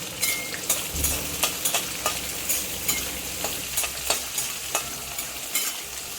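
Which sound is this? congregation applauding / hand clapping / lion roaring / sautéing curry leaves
sautéing curry leaves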